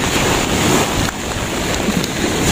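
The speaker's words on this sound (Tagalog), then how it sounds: "Malaga sa alon, ano?" Big sea waves roll and crash against the shore in a continuous loud roar, mixed with buffeting wind noise on the microphone and no voices.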